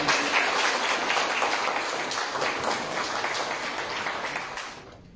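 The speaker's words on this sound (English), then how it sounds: "I think a round of applause is needed." An audience at a ceremony launching a stock exchange applauds steadily, a dense continuous clapping that carries on without voices and fades out at the very end.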